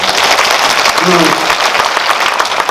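Audience applause fills a cinema hall at a film Q&A session, a steady dense wash of clapping throughout with a brief voice surfacing near the middle.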